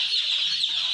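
A large batch of layer chicken chicks peeps continuously in a dense, shrill chorus, close and fairly loud, with no talk.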